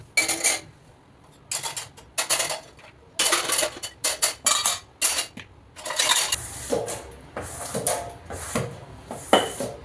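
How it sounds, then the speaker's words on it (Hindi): Dishes and utensils are put away from a basket in a home kitchen, with repeated irregular clinks, clatters and knocks of metal and crockery, some sharp and close, others softer, continuing throughout. "किचन में यहाँ पे बास्केट में थोड़े बर्तन रखे रह गए थे, तो सबसे पहले मैं इसको अपनी जगह पे अरेंज करूँगी"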